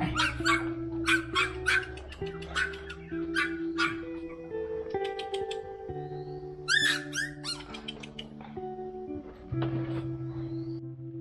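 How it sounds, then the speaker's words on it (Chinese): Three small puppies picked up by a roadside give repeated short yips and barks with some whimpering, moderately close, over steady background music. "咱们现在先上去喂那个小狗崽"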